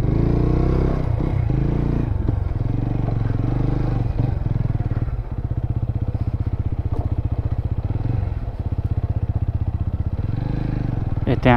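A new TVS Apache RTR 200 motorcycle idles close by as it is parked, its steady low engine thrum running throughout with occasional clatter and scraping.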